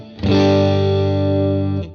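A second-hand electric guitar on one of its two pickups sounds a single sustained distorted chord, loud and close, with a fast attack, a steady ring for about a second and a half and an abrupt stop.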